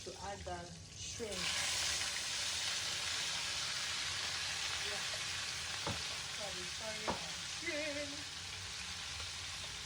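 Shrimp and sweet corn frying in a pan for fried rice, a steady loud sizzle across the whole stretch, with a brief voice at the start and a couple of sharp utensil clinks against the pan.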